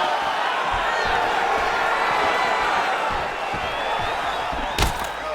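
A virtual arena crowd at an MMA bout in a UFC-style video game roars and cheers steadily throughout, with a sharp slam of a strike landing near the end.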